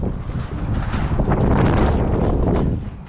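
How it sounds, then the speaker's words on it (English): Gusty wind blows outside a car workshop garage with the roller doors pulled down, a steady low roar and buffeting that stays loud throughout with no one talking. "So it's a bit windy, so we got the doors down"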